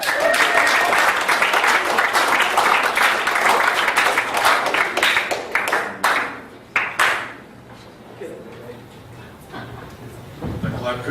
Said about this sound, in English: That clap couldn't have been any longer.